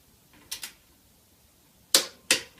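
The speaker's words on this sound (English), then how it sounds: "And we're just going to put the torque wrench on." Torque wrench tightening bolts to 20 newton meters on the rear brake components of a Yamaha FZR 600 motorcycle, giving two pairs of sharp, close clicks, the second pair louder, with quiet gaps between.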